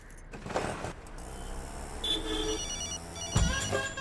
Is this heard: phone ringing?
yes